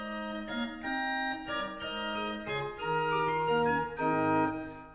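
A rare Trost pipe organ plays a solo melody on a quint stop combined with an 8-foot stop, a reedy, nasal line of distinct notes over soft accompaniment.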